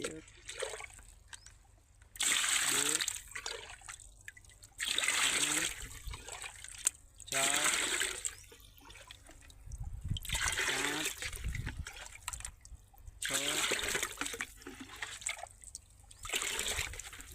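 Water pours in long bursts, gushing and trickling into a sprayer tank, seven containers in all. There are pauses between the pours, and a person talks in between.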